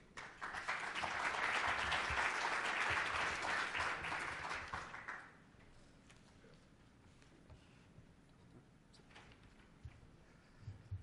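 An audience at a Panamanian business executives' event applauds loudly for about five seconds, then the clapping stops and a quiet room remains with faint scattered noises.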